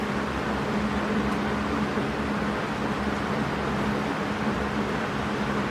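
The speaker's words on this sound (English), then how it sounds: "Sorry for the annoying fan behind me." Steady, close fan hum blowing air on a cabin's front porch while a storm approaches, a constant broadband whoosh with a low tonal drone that never changes level or rhythm.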